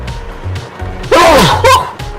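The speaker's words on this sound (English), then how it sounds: "I don't think I've ever sneezed on a vlog before" A single loud sneeze with a sharp intake and burst, heard inside a car.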